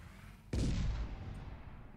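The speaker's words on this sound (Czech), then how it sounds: "Tady ovládám dělo, hele." A cannon fires in a camper van video game: one sudden loud boom bursts in at mid-clip over a low rumble and rolls away slowly, with no talk.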